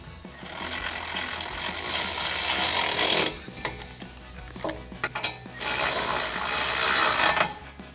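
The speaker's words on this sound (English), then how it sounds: "tighten these bolts down with a 13mm socket" A 13mm socket ratchet tightens bolts on the drop step brackets of a Tacoma pickup, giving loud, rapid clicking runs in several bursts separated by short pauses, close to the microphone with no talking.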